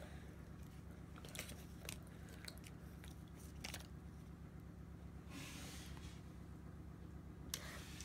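A crunchy Kinder Joy wafer is chewed close up: a series of quiet, crisp bites and crackles scattered over a low steady background hum, with no talking.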